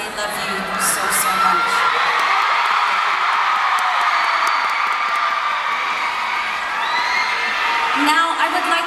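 A large fan crowd at a fan meet in Manila yells, whoops and cheers in a loud, continuous roar, with high shrieks standing out and the noise barely dipping for nearly nine seconds.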